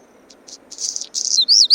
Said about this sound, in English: redstart,